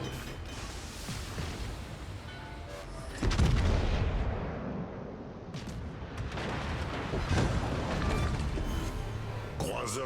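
Battleship Jean Bart firing naval gun salvos in the World of Warships game, heavy booming blasts over a constant dense rumble of battle noise, with a big surge near the middle and mechanical creaks throughout; a voice talks over it.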